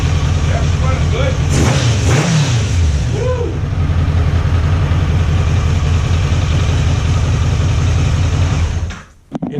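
A 1987 Kawasaki Concours motorcycle engine runs loud and steady with an even idle rumble, a person speaking briefly over it, before the sound drops away at the end.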